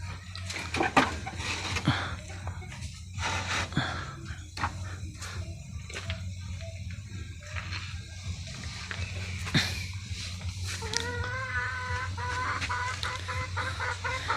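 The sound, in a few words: chicken clucking after laying eggs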